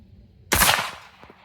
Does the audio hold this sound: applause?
no